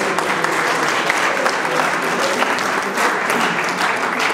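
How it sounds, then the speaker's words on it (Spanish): An audience bursts into strong, even applause to welcome a speaker, many hands clapping together in a continuous, full-sounding roar that holds steady throughout. "recibimos con un fuerte aplauso a la magíster Daisy Viviana Perdomo Cabrera"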